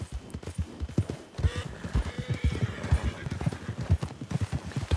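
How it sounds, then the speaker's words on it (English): A spooked horse in Red Dead Redemption 2, hooves clopping in a quick steady rhythm close by while a high, shaky whinny rises over them midway. "Saddler, you spook the horse."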